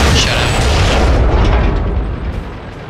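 A tank cannon shot from World of Tanks during a Clan Wars battle: a loud, sustained booming blast with a heavy low rumble that fades slightly, mixed with game noise.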